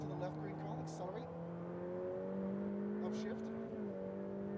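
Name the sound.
Ferrari F8 Tributo accelerating on track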